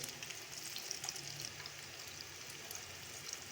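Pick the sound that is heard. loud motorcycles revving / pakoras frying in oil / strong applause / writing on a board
pakoras frying in oil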